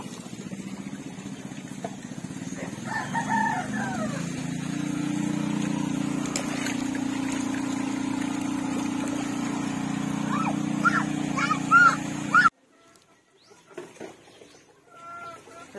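Breeder roosters crow and cluck now and then over a steady low background hum. The sound turns quieter and sparser near the end.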